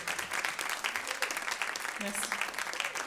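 Applause from a live audience at a 2010 acid-jazz funk concert, a steady wash of many hands clapping at moderate distance for a few seconds.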